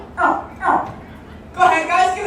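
A person imitates a baby alligator's call to its mother with short voiced grunting calls, two quick ones, a pause, then a longer pair, close and moderately loud.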